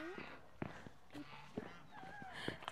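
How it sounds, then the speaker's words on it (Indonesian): Geese honking at a village in Moldova in autumn, a few scattered harsh calls over faint background noise and some footsteps. "Kita mau lihat angsa ya"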